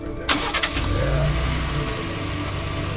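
Dwayne Johnson's custom pickup truck fires up with a sharp crank and catch, then settles into a loud, steady rumbling idle with a few throttle blips, close by and with no talking.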